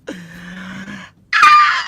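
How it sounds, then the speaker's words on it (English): A person screams loudly in two bursts: a sustained, pitched wail lasting about a second, a brief pause, then a harsher, louder, rougher scream. There is no other talk. "Sorry for just screaming in your guys' ears."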